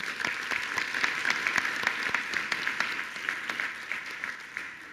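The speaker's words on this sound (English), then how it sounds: "I want to give them a hand of applause." Conference audience applause fills the whole stretch, steady clapping from many hands with crisp individual claps standing out, moderately distant and sustained without voices over it.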